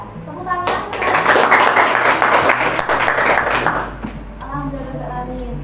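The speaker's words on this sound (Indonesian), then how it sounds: "Tepuk tangan." Classroom applause from nursing students in a university lesson in Malang, a dense burst of clapping swelling after a brief pause and lasting several seconds before fading into quieter room noise and a voice.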